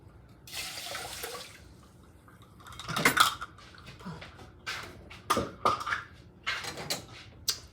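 Four cups of water go into a pot of herb vegetable rice at a home kitchen sink, with running-water splashes, a few clanks of pots and utensils, and quiet gaps between them.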